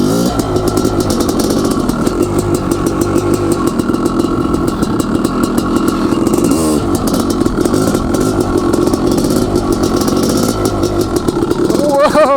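Honda CR500AF dirt bike ridden through wet slush near a lake, its two-stroke engine droning loud and steady throughout with a rider talking over it.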